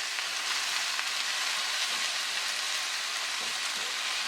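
Cabbage frying in a little sesame oil for salmon fried rice, a steady close sizzle and crackle that holds evenly throughout with no voices.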